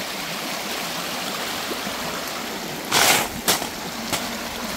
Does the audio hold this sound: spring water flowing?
yes